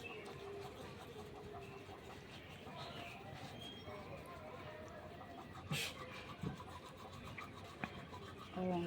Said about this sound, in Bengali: এখন ব্রাশ করছি